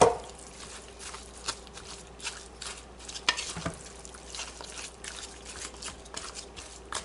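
Chicken pieces being stirred in a pan and coated with curry and seasonings, with soft quiet scraping and light sizzling patter throughout, a few sharper utensil knocks, close and without talk.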